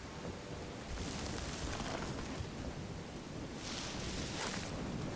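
Rain and thunder in the medieval survival game Bellwright: steady hissing rainfall with low rolling thunder swelling twice, continuous and moderately loud, no voices.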